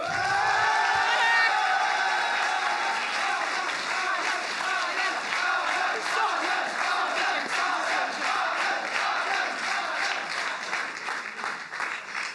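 A festival crowd applauding and cheering, with sustained dense clapping and shouts mixed with whoops that stay loud and continuous for about twelve seconds.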